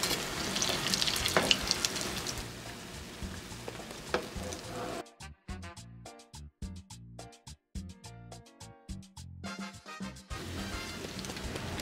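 Salvadoran potato rellenos fry in oil with a close, crackling sizzle, then go choppy as they are turned over.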